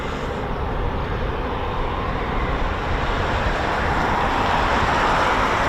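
Military aircraft engines at an air force base spool up in the distance as a steady, broad roar that slowly swells, with no voices.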